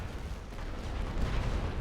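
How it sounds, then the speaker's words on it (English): A game artillery barrage during the Second Battle of Ypres pounds away as a dense, continuous rumble of distant booms and blasts, steady and fairly faint, with no voices over it. "Start the barrage."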